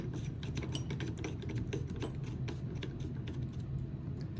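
A through axle being threaded by hand into a bicycle fork, heard as faint, fine mechanical clicking and ticking at a steady, irregular pace with no talk.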